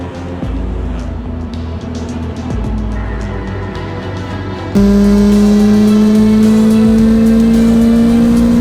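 A young driver's race car sets off onto the track at an FFSA Academy session, the engine idling close by before surging into a loud, rising rev as the car pulls away.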